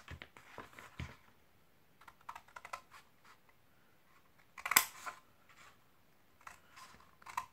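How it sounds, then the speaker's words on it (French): Scissors snip paper tabs to a bevelled edge while a storage box for alcohol markers is made, giving a quiet, close series of crisp, irregular cuts with short pauses between them. "Je vais couper mes languettes, donc je biseaute un peu,"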